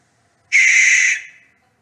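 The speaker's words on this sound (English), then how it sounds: "Yeah, that's a barn owl call for you." A single harsh, breathy screech from a barn owl's territorial call, loud and close, lasting about a second and trailing off at the end, with silence before and after.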